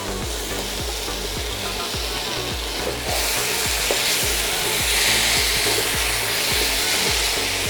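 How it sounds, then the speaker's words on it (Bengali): Fried bhetki fish muitha and potatoes are sautéed with spices in a pan: a constant loud sizzle with a rhythmic scraping and stirring of a spatula repeating throughout, and no voices. "ভালো করে এবার মাছের মুইঠা আর আলুটাকে মশলার সাথে একটু কষিয়ে নিই আমরা।"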